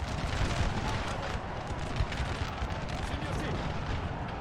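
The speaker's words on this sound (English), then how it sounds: "I like the little withering heat from the volley fire." Massed musket volley fire in a large Napoleon Total War battle between French, British and Russian armies, a dense continuous crackle and rumble of gunfire with no clear breaks, steady and loud throughout.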